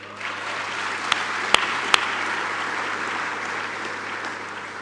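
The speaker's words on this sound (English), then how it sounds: "so maybe we give them a big applause." Audience of about fifty youth students and guests at a BMW X3 launch event at the Rosslyn plant gives sustained applause, steady and full for nearly five seconds, with a couple of sharp louder claps standing out.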